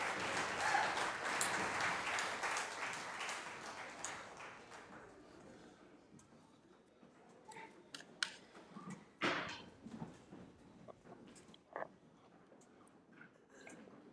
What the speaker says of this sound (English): give another big round of applause